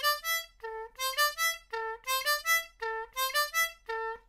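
Solo harmonica playing a variation on the Game of Thrones intro melody, clear sustained reed tones in a steady repeating rhythmic phrase, close and unaccompanied.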